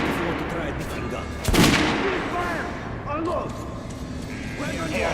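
Gunshots on a shooting range in Metro: Last Light Redux, led by one loud close shot with sharp echoing crackle, then quieter mechanical clicks and handling sounds, with a voice talking in places.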